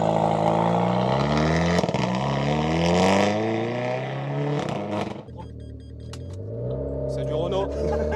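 A Renault Clio 4 RS Cup, Renault Sport stage 1, drives with its engine droning loud and steady, the pitch rising and falling through gear changes with a brief dip midway, all close and continuous.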